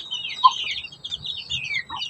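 High, thin peeping from young chicks kept with their mother hen, a continuous chorus of quick chirps close by, with one soft low cluck and faint rustling underneath.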